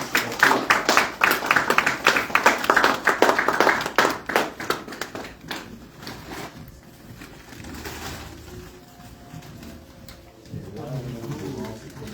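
An audience at a tribute evening bursts into loud, dense applause for several seconds, then the clapping thins out and fades, leaving a quieter room with some background stirring.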